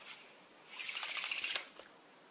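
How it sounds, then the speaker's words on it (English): A deck of playing cards is riffle shuffled in the hands and bridged square: a single quick, close fluttering cascade of cards lasting about a second, quiet and alone. "that is the riffle shuffle, the in the hands riffle shuffle with the bridge square up"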